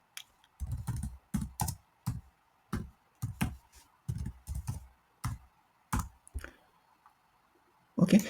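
Bursts of keystrokes on a computer keyboard at a command line, short clustered clicks with pauses between, close and clear with no talking.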